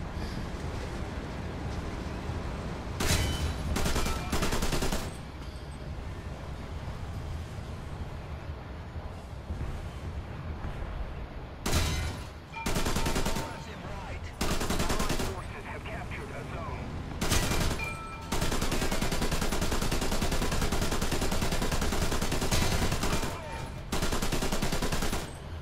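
Tank cannon fire from the War Thunder video game booms out in repeated heavy, loud blasts spaced several seconds apart, over a steady engine rumble, while players talk.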